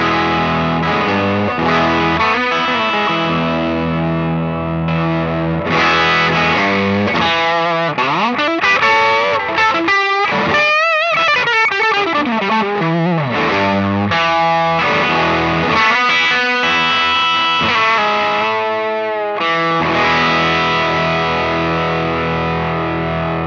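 Distorted electric guitar played through a Paul Cochrane Timmy V3 transparent gain pedal with its boost engaged, giving a brighter, more aggressive lead tone; sustained chords and bending lead lines ring loud and continuous, with no talking.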